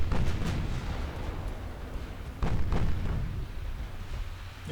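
Naval gunfire in the game Ultimate Admiral Dreadnoughts, a 1920 German fleet firing high-explosive shells: a few deep booming salvos, one near the start and a pair midway, each with a rolling rumble.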